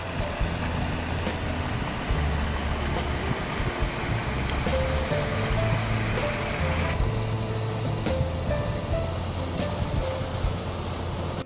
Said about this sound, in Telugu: దుందుబి నది పొంగి పొర్రుతుంది